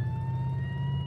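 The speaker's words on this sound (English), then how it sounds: "That's the sound of the police." Police car siren in a BeamNG video game chase, a brief steady wailing tone heard over a low engine drone.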